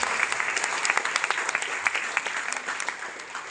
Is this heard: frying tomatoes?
no